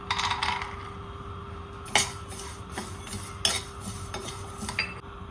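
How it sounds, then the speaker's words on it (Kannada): Almonds tossed in a pan are stirred with a metal utensil, giving intermittent scraping clinks and sharp knocks over a faint low sizzle, close and fairly quiet with no talk. "ಇದನ್ನು ಮೊದಲಿಗೆ ಫ್ರೈ ಮಾಡ್ಕೊಳ್ತೀನಿ. ಬಾದಾಮಿಯನ್ನು ಹಾಕ್ತಾ ಇದ್ದೀನಿ."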